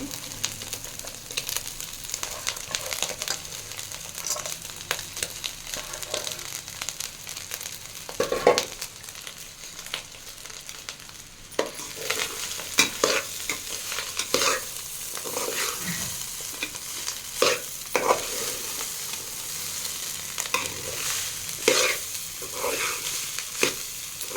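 Rice frying in a pan, a steady near sizzle broken by repeated scraping stirs and the clink of a utensil on the pan, with no talking.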